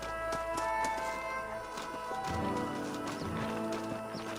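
Horses in the Western video game Red Dead Redemption shuffle and clop on the ground as riders dismount, with a steady layer of game ambience and music underneath.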